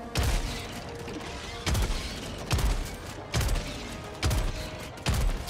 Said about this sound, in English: I'm using a flamethrower, it's broken now.